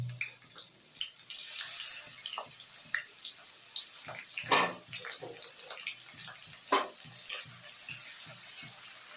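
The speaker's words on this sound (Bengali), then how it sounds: "তেলে আমি এখানে মাঝারি সাইজের পেঁয়াজ দুটো কুচিয়ে নিয়েছি আমি ওটা তেলেতে দিয়ে দিলাম" Two chopped medium onions drop into hot oil, setting off a loud, steady sizzle that stays strong throughout, with occasional utensil clinks and scrapes cutting through nearby.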